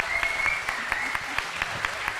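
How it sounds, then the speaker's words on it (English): Audience at a national student grand final applauding a young finalist named Sophie, scattered distinct claps over a soft background wash, moderately faint and fairly even throughout. "Sophie, massive round of applause"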